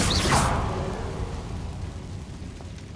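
A Confringo fire spell bursts in Hogwarts Legacy, a sharp whooshing blast up front that rolls into a rumbling, fading explosion tail lasting several seconds.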